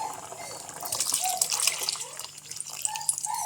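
Thick curd splashes and gurgles as it pours steadily into a pot, close up, with a continuous watery rush throughout.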